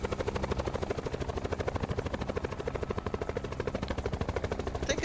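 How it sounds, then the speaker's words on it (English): A video game helicopter in a Blackout battle royale match keeps up a loud, steady rotor thump, even rapid beats running unbroken throughout. "I'm gonna leave my helicopter up here, hoping nobody's there."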